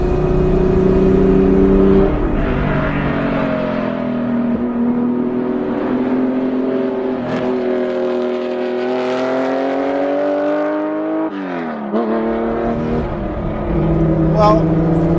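A hot-rodded Porsche 911 964 runs at full throttle on the Angeles Crest Highway, its loud engine note climbing steadily in pitch, dipping briefly at a gear change, then rising again.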